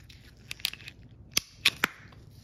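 A Taurus PT-100 pistol slide slides and clicks back onto its frame, a short run of crisp metallic clacks and scrapes, close and fairly quiet, with one sharp snap followed by two more near the end.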